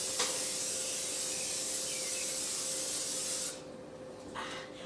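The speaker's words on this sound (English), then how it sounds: "with a little spray, just so my corn casserole doesn't stick" Butter-flavored cooking spray hisses steadily from an aerosol can into a casserole dish near a kitchen sink, one continuous close spray lasting about three and a half seconds before cutting off.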